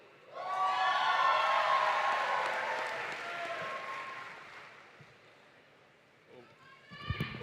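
Audience at a commencement ceremony at Lincoln University, Pennsylvania, bursts into loud sustained applause mixed with cheering and whoops, swelling then gradually fading over several seconds before a brief rustle and a few thumps at the end.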